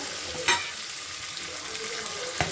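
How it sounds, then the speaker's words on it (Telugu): Mint leaves fry in hot oil for bagara rice, a close, even sizzle with two brief sharp scrapes of a spoon against the pan. "పుదీనాని కొంచెం ఫ్రైగా అవ్వాలి"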